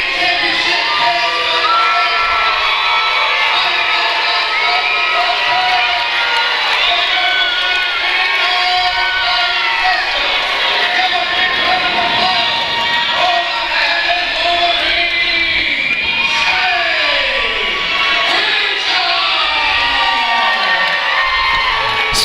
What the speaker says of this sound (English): Split crowd, definitely taking sides.